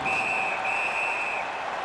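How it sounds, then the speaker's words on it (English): A referee's whistle in the NHL 19 hockey video game gives a long, steady shrill blast over a dense arena crowd roar that carries on after it ends. "And the referee's whistle has stopped play."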